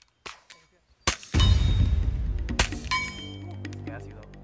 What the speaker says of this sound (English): we're shooting suppressed weapons with some friends here.